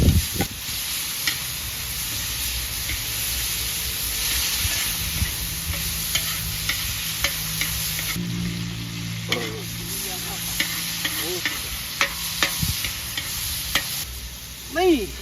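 Fresh tofu stir-fried in a wok with bean sprouts, Shan-style, sizzling steadily and loudly while a utensil scrapes and clatters against the pan in repeated strokes, with no talk.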